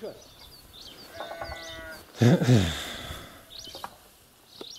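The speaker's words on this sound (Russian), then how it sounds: "Хозяйство батюшки, бессловесные овцы." Sheep bleat nearby, a few wavering calls with one loud bleat in the middle, over faint background chatter and ambient noise.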